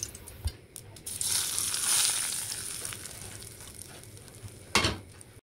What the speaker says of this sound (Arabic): وآخر شي بنحمي السمنة مزبوط، ملعقة السمنة وبنضيفها